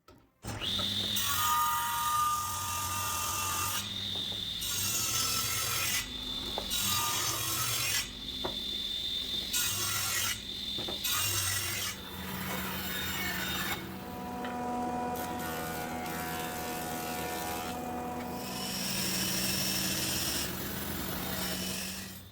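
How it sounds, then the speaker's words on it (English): Mahogany pistol-style handle blank for a hunting slingshot being machined down, a loud rasping, rubbing grind in repeated bursts separated by short pauses. "Then I'll machine down the blank to the right size."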